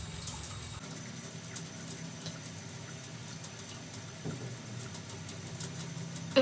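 Water runs from a tap while skincare product is rinsed off, a steady, moderate hiss of flowing water that holds evenly with no voices.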